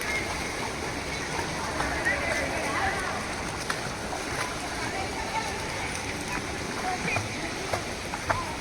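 Shower water splashes and patters steadily as two young girls rinse off beside a swimming pool, a continuous wet hiss with small spattering bursts, while an adult voice talks over it.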